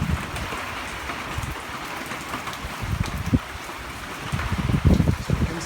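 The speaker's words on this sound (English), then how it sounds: "So you can see it's raining pretty good" Heavy rain pours during a Southern California winter storm on a 50-degree day, a dense steady hiss with scattered louder thumps and gusts building toward the end.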